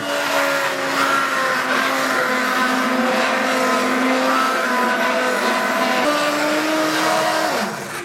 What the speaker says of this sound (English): I'm going to go ahead and blend this. So always put your immersion blender down.